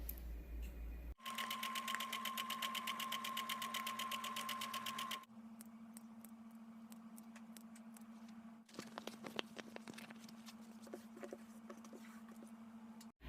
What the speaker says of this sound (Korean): 챙끝선, 브림 챙끝선 박음질 하도록 하겠습니다.